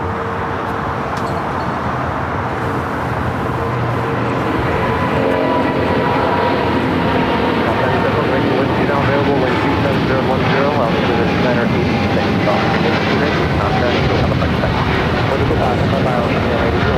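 An Austrian Airlines Boeing 777-200ER, bound for Vienna, rolls for takeoff at LAX, its broad, steady engine roar building loud and continuous, with people talking over it.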